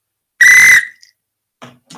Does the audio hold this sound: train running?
no